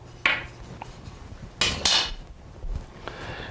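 Pans clatter on a stovetop while heat goes on before olive oil is poured for burgers: three sharp metallic clanks spaced out, loudest near the middle, with quieter shuffling between and no talk.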